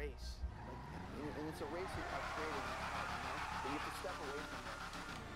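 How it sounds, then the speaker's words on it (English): The Imponte Nightshade muscle car in GTA 5 revs and roars, its engine note rising and falling in repeated surges while someone talks over it. "Man, that engine just sounds so beastly."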